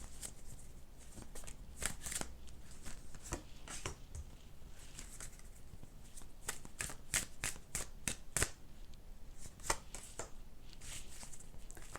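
Tarot cards shuffled by hand close up, crisp riffling and flicking bursts in an irregular rhythm, quiet and without talk.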